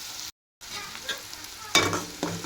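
Onions fry in a pan with steady sizzling and stirring, cut by a short silent gap, then a louder burst of sizzle as the pan is stirred.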